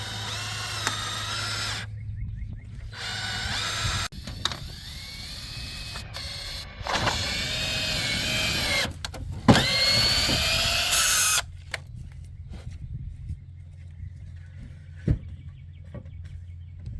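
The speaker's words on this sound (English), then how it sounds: "we're pre-drilling because these holes are close to the edge and we don't want any splitting" A power drill makes several short, whining bursts while pre-drilling holes near the edge of wooden boards for a bed frame, with pauses, clicks and handling noise between them and no talking.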